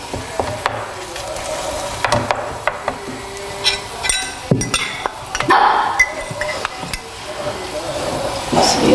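Frittata ingredients being stirred in a bowl, with scattered clinks and scrapes of a utensil against the dish in an irregular rhythm, close by, with some talk in the background.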